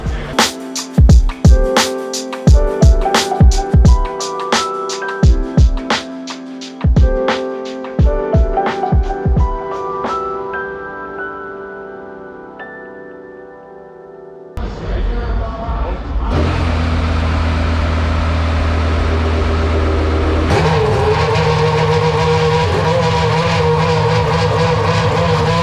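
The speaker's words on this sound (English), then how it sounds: "So here we have a Benetton F1 car from '91 when Michael Schumacher did his first full year with Benetton." A 1991 Benetton Formula 1 car engine comes in after a stretch of plucked musical notes, rising to a loud, sustained, harmonically rich racing-engine drone that holds steady to the end.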